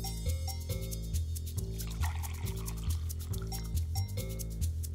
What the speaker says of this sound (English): Pour 150 milliliters of very hot coffee into each cup.